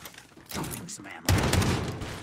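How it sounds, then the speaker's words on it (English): Rapid bursts of gunfire from a first-person shooter video game, a quieter volley followed by a louder, dense sustained stream of shots close up. "Dumping some ammo."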